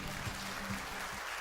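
A church congregation applauds the children during a service, a steady, dense wash of clapping from many hands filling the room throughout, with faint voices underneath.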